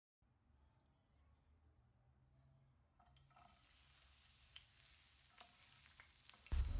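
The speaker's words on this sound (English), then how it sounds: "We'll start by frying some onions." Onions frying in hot oil in a pan: a faint low hiss at first that swells into a steady, brighter sizzle, ending with a sudden loud clatter, with no one speaking.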